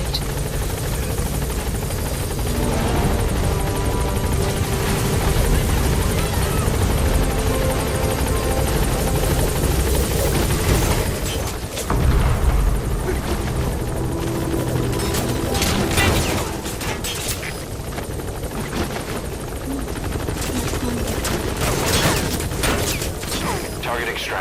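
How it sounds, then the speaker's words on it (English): Support helicopter in Metal Gear Solid V: The Phantom Pain arriving, its rotor thudding loud and continuous throughout, layered with mechanical clatter and sharp bursts of game action. "Support helicopter has arrived."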